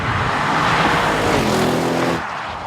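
Audi RS7 driven hard at high speed, a loud close engine roar with rising tonal harmonics as it revs, then easing off near the end with wind and road noise underneath.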